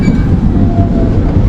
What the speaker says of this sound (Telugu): మళ్ళీ బయలుదేరిపోయింది వెంటనే ట్రైన్.